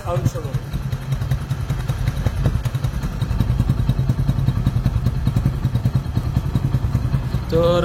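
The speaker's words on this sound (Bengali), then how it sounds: "রানিং অবস্থায় সাউন্ড শুনুন।" A Hero Splendor Plus 2023 motorcycle is ridden with its engine running, giving a steady near putter with a regular thumping pulse and light mechanical clatter over about eight seconds.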